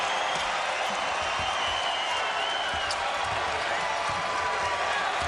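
A dense crowd at a Big South Championship college basketball game, Campbell vs Winthrop, roars and applauds for the Winthrop Eagles, a steady wall of cheering that never lets up.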